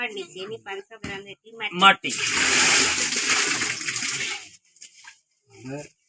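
Water pours into a 200-litre barrel as about 180 litres are added, with a loud steady rush for a couple of seconds. Someone talks before and after the pour.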